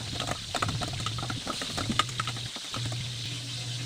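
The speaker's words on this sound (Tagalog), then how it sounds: "Igigisa po natin ng patis ang ating swam na mais" Corn soup being sautéed with fish sauce in a pan, with a busy crackle and sizzle of patter over a low steady hum throughout.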